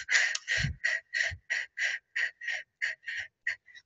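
A person does a paced breathing exercise, blowing out breath in a steady series of about a dozen short, close, evenly spaced puffs.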